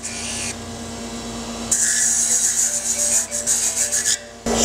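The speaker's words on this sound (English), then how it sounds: "So I have a very small little twist drill here. It's a number 70, and I'm just drilling a little hole down in there" A tiny number 70 twist drill bores a small hole into a lathe-turned wooden earring, a thin high whine that starts partway in and pulses in short bursts over a steady motor hum.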